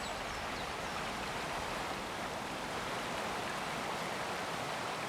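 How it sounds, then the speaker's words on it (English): A video game waterfall pouring out of rocks gives a steady, even rush of falling water that holds constant throughout, with no voices. "Pretty waterfall coming out of the rocks there."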